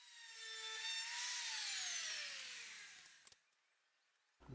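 A router spins up and cuts a quick chamfer along the edge of a wooden shelf for a built-in bookcase, a close, loud whine that winds down, followed by a soft click and a thump.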